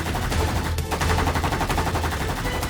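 Gunshots in the Sakura School Simulator game fire in a rapid, steady burst like a machine gun, loud and close, with no speech.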